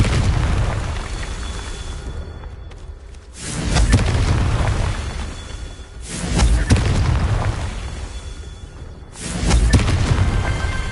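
Three heavy, booming spell blasts of the Confringo fire curse in Hogwarts Legacy, spaced a few seconds apart, each a loud close burst with a rumbling tail and no voices.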